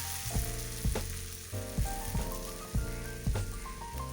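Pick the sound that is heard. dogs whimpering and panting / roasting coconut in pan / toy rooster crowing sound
roasting coconut in pan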